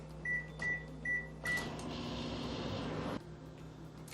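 A microwave oven heats salsa con queso covered with a paper towel: four short beeps as it is set, then a steady humming run for about two seconds that cuts off abruptly.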